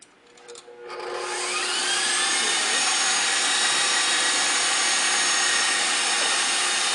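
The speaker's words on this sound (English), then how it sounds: "These are 3 egg whites. We're gonna start whipping off." An electric mixer whipping three egg whites for tiramisu, starting up after a second and then holding a loud, steady, high whirring drone close by.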